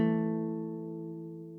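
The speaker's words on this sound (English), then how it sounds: "A perfect fourth sounds like this." A perfect fourth interval rung out on a classical guitar, two notes sounding together and sustaining as they slowly fade, soft and close with nothing else heard.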